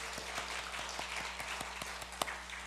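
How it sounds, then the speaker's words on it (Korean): Church congregation applauding to welcome a newly appointed soloist at a Sunday service, with sparse, fairly faint claps in an irregular rhythm over a steady low hum of the room. "우리 박수로 환영하겠습니다."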